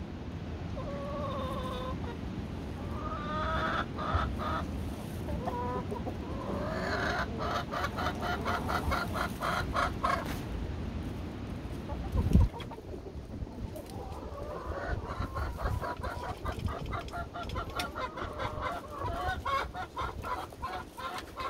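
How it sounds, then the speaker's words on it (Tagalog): Chickens in a backyard pen clucking with a rooster crowing, moderately near, over a constant roar of strong wind and no talk. "Yan ang kanilang tila-tilaok."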